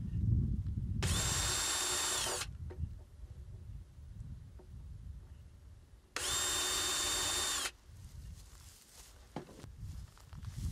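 A power drill drives two 1.25-inch screws into a wooden cleat on a cold frame planter: two loud, whirring bursts of about one and a half seconds each, separated by quiet handling noises.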